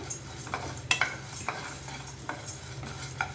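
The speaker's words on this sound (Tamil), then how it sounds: "பருப்பு வந்து நல்லா வறுபடணும், அப்போ தான் டேஸ்ட் கொடுக்கும்." Dal fried in a pan with asafoetida, a spoon scraping and stirring in uneven strokes over a soft, steady sizzle, close and fairly quiet.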